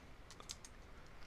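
Light keystrokes on a computer keyboard as a password is entered on a network server, a few quick taps close by and faint, without talk.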